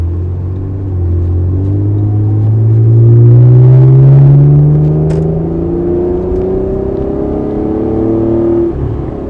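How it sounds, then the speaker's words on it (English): A 1991 Acura NSX engine drones and rises in pitch as it accelerates, a loud, smooth exhaust note swelling then easing off. "You got the little exhaust note behind you"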